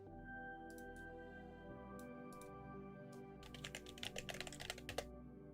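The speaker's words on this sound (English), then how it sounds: "I hate the sound of this keyboard." Keys clack on a computer keyboard in scattered taps at first, then in a quick, steady burst of typing over a low steady hum.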